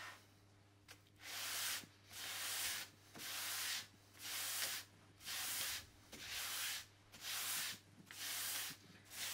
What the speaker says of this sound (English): controlling the sanding strokes